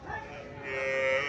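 A dairy cow at a cattle sale in Cumilla gives a single drawn-out moo, moderately close, with faint background voices.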